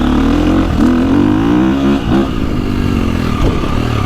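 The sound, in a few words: KTM 350XCF gas dirt bike accelerating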